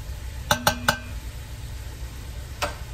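A chopped onion goes into a Hungarian goulash pot and is stirred, with a few quick metallic clinks of a utensil against the pot over a faint steady sizzle.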